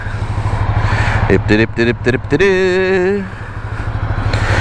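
Ducati Scrambler motorcycle with a Desmodromic engine running close by, a steady low throbbing rumble holding under a voice as he talks.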